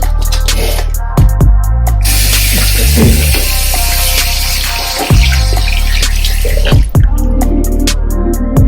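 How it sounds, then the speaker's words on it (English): Hands are washed under a running tap, a loud, close gush of water broken by splashes, squishes and brief interruptions as the hands move through the stream. "So first thing first, wash my hands."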